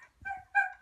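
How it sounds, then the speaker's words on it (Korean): A dog in a messy room gives two short, high yelping barks close by, with a faint soft thump before them. "방 안에서 개가 짖는 소리가 들려옵니다."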